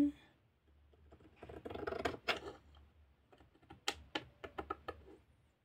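Scissors snipping through lace, a few quiet soft cuts followed by a quick run of crisp close snips, faint breath and handling noise around them.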